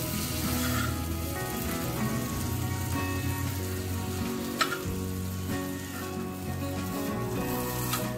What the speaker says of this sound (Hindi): इसको देखिए हल्का हल्का हमने चारों तरफ से पकाना है